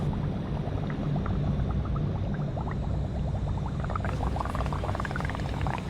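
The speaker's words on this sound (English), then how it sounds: "bubble it into the soap solution so we can make some rocket fuel bubbles" Hydrogen-oxygen gas bubbles into a soap solution with a steady burbling, gurgling stream of small pops and bursts, close and continuous, no voices over it.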